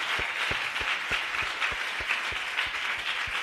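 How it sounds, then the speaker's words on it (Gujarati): Church congregation at a Gujarati service applauding loudly, a dense wash of clapping with regular strong beats of rhythmic claps running through it. "જોરથી તાળી. મોટા અવાજે તાળીઓ આપીએ."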